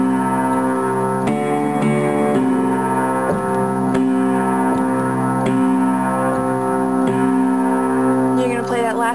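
Piano chords from the song ring out in sustained, layered strikes, one after another, with the final chord resolving on C; the tones are clear and resonant and fill the space.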